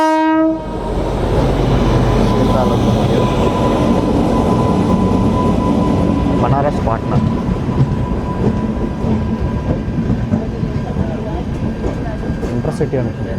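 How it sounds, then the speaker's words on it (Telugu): A passenger train passes near Kashi railway station. It opens with a blast of its horn, then a loud, sustained rumble and clatter of wheels and carriages. "ఈ పక్క అయితే ట్రైన్ అయితే వస్తుంది."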